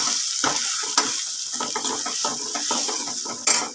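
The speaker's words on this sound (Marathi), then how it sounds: "आता जे मसाले आहेत ते आपल्याला टाकायचे आहेत" Spices being stirred into a pan of sambar, with a steady close sizzle, loud and continuous, under rhythmic scraping strokes of a spoon, and no voices.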